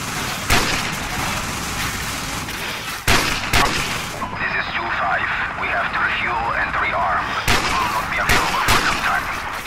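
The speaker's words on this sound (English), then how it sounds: "Can't even see what I'm shooting at." Gunfire in Call of Duty 4: Modern Warfare, a string of sharp, loud shots in bursts with dense battle noise and radio-like chatter between them, and a person talking over much of it.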